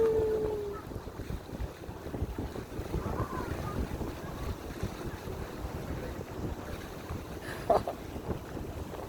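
Steady low rumble of a boat moving on water amid gusty wind noise and lapping waves, fairly continuous throughout.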